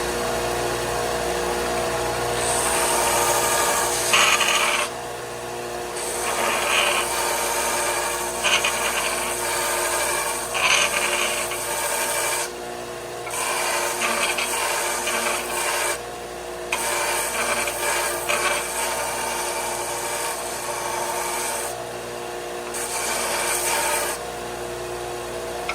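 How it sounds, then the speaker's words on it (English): A power sander shapes a small wooden chair spindle from the bottom of a chair leg on a porch, a continuous loud raspy whir with brief pauses and changes as the tool presses against the wood. "I'm just going to use my sander"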